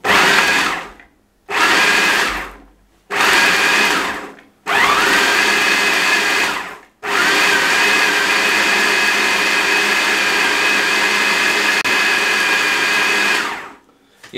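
A food chopper runs in short pulses, several whirring bursts separated by brief silences, then one long continuous high-speed whir, loud and close, as it grinds chilies and chicken for shami kebab.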